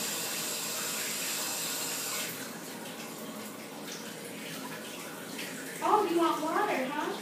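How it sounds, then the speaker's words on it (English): Bath water running from a tap into a tub, a steady broadband rush that drops slightly partway through, with a person speaking near the end over the flow. "Gotta turn on the water."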